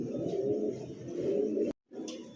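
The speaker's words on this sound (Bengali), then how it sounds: "স্ক্রিনে দেখতে পাচ্ছেন দুইটা লাল টুকটুকে দুইটা কবুতর ভাই" Rajshahi Giribaz pigeons, including a pair of red birds, coo softly nearby in low rolling calls that break off for a moment before resuming.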